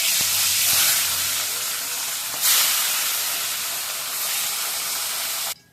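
Fish frying in a pan on a home kitchen stove gives a steady, close sizzling hiss that runs unbroken for several seconds, with a brief louder flare partway through and a couple of soft low knocks near the start.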